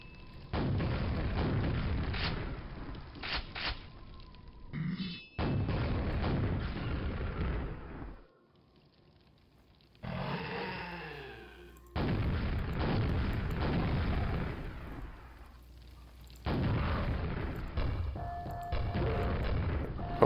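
Loud, booming rocket launcher explosions from the video game Quake come in long rumbling bursts separated by short quiet gaps, with one stretch of fluttering debris-like noise in the middle.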